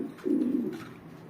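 A single feather-footed pigeon gives one low, throaty coo at dusk, close and clear, lasting under a second against a quiet background.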